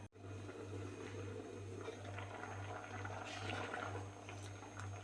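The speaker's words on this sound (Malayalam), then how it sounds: "പുളിശ്ശേരി തിളച്ച് വന്നിട്ടുണ്ട്" Jackfruit pulissery curry bubbles in a pot, a soft continuous simmering burble with a faint low hum beneath it and no talking.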